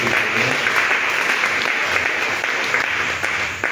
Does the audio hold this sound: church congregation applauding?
yes